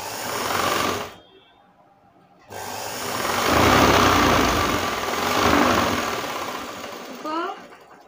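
An electric sewing machine stitches lace onto a blouse, running in a loud steady whir with a short stop in the middle before starting again. Someone talks over it.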